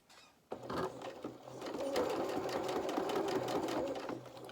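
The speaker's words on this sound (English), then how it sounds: "let me just sew it for you and show you. Just with a straight stitch, just reverse on the edge, just straight on the line" A sewing machine running a straight stitch on fabric for a doll's dress skirt, starting after a short pause into a fast, even close-up rattle that continues steadily to the end.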